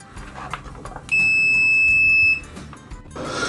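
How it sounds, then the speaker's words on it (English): A budget ANENG SZ08 digital multimeter in continuity mode, set to maximum output volume, gives one loud, steady electronic beep lasting just over a second, between quieter bench noises. "Maximum output volume in continuity."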